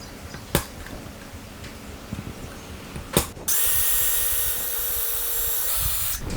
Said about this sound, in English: go ahead and get my holes drilled